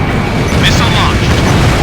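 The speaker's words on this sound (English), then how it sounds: "Missile launched." A missile launches in the Ace Combat Infinity jet combat video game as a loud, continuous rushing roar that fills the whole short moment.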